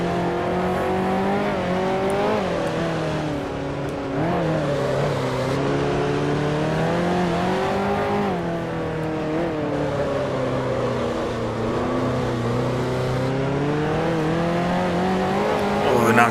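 A 1955 Formula One race car in Grand Prix Legends, its engine droning loud and close with pitch rising and falling through gear changes and corners, while someone commentates over it.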